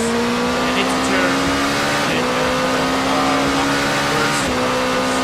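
A race car at the Buriram circuit brakes hard into a corner, its engine note dropping through downshifts with steady loud roar and brief blips, while a commentator talks over it.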